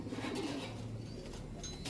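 Pigeons coo softly and repeatedly against a steady background hum, with no voices.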